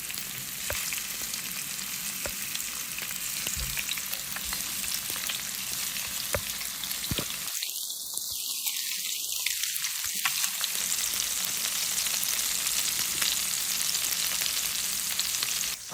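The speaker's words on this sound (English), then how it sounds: "let's start adding the salmon here, guys." Salmon fillets sear in a hot pot for salmon pasta, a steady loud sizzle running throughout, briefly interrupted by a clatter and a stronger burst of spitting as the fish goes in.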